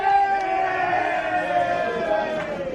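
Dense roar of a football crowd shouting and yelling at an Adelaide Footy League match between Golden Grove and Payneham Norwood Union, a steady, loud wall of voices with no single speaker standing out.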